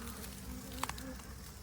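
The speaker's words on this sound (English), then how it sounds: "This is a swarm of bees." A soft, steady buzz from a swarm of bees drones throughout, with a couple of brief clicks in the middle; no voices.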